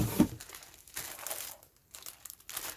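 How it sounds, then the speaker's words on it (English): Clear plastic wrapping being unwrapped from a box indoors: close, crinkly rustling in irregular bursts, fairly quiet, with no talking. "I'm going to unwrap the clear plastic so you guys don't have to hear the rustling"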